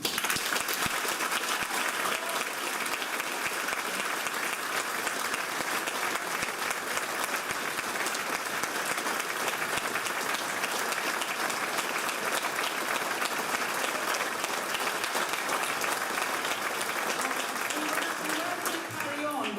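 Audience at a massed band concert by a school band and the Royal Marines gives a sustained round of dense, loud applause that continues evenly throughout.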